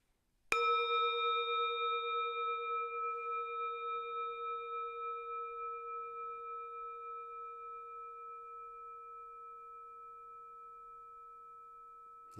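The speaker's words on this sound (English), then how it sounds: "Let's just listen to the sound of this bell." A single struck meditation bell rings out with a clean metallic tone, then sustains alone in silence and fades slowly over about twelve seconds with a gentle pulsing shimmer.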